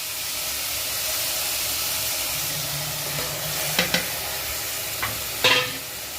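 Tomato paste being stirred into a vegetable kurma masala as it fries, giving a continuous soft sizzle and hiss with a few sharp spoon scrapes and clicks toward the end.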